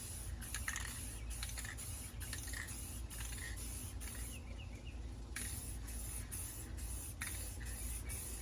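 Light second coat of spray paint on a model F-18 jet airplane, a steady close hiss that continues almost unbroken throughout.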